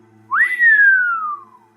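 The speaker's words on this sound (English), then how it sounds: "Astaroth shuts the door behind her and lets out a whistle." A single clear human whistle, a quick rising note that slides slowly downward over about a second, close and loud in a quiet room.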